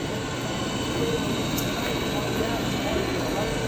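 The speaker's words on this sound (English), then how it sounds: "the vacuum's going" A household vacuum cleaner runs steadily nearby as a broad, constant whooshing drone, while a person talks over it.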